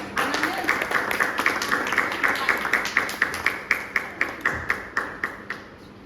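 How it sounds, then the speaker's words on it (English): A small audience at a Toastmasters meeting claps for a speaker called to the stage. The sparse, fairly even claps settle into a regular rhythm and taper off near the end. "can we have a big round of applause for her?"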